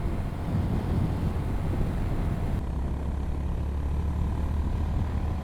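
A 2025 Honda GB350S air-cooled single-cylinder motorcycle rolls along on the road with a steady low engine rumble, mixed with wind buffeting on the microphone.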